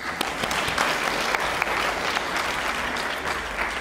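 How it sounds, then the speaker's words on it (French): A congregation at a Catholic prayer retreat in Paris applauds in a steady, dense wash of clapping that holds evenly throughout, with a few sharper claps standing out. "Applaudissons le Seigneur."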